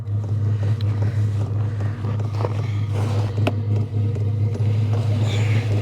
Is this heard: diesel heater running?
yes